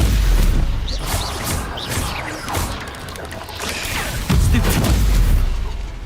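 Confringo fire spells in Hogwarts Legacy blast again and again as loud booms and crashes, with a heavier burst near the end over a busy battle din.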